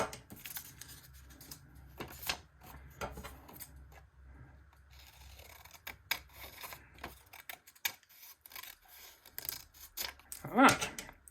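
Scissors snipping through card during a nursery flower craft, a run of short crisp cuts with a louder snip near the end, with a voice talking faintly between the cuts.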